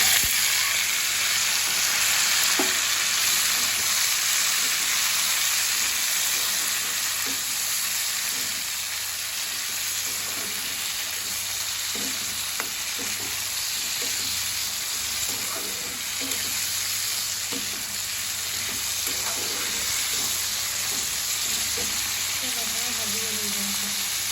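Tomatoes and jaggery fry in a pan with a steady loud sizzle that runs the whole way through, while the food is stirred with occasional scraping taps.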